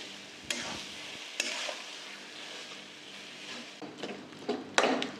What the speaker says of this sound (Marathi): हे असं चांगलं भरीत मिक्स करून घ्यायचं।